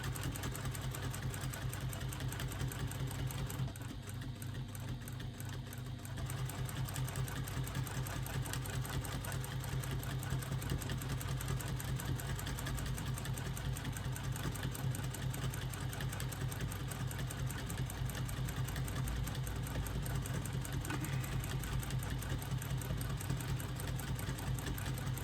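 Free motion quilting on a sewing machine gives a continuous close mechanical hum with rapid needle chatter that barely dips for a moment early on, with no voices.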